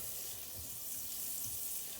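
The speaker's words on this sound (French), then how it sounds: "Pendant que le beurre fond, on peut saler et repoivrer l'extérieur du boulet." Butter melts in a hot cast-iron pot with a soft, steady sizzle and crackle. The sound is faint and continuous, with no voices.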